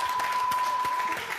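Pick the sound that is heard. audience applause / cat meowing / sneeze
audience applause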